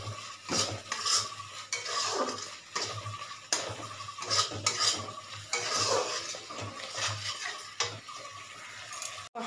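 Spice paste stirred and sautéed in oil until the oil separates, for a Bengali bottle gourd and shrimp curry: steady close sizzling with repeated scraping spoon strokes against the pan in an uneven rhythm, no voices.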